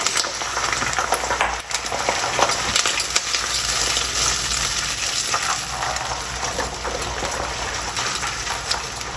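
Water is poured into a pot of frying ginger garlic paste, giving a continuous gushing, spattering sizzle with scattered small clatters throughout, close by and with no talk.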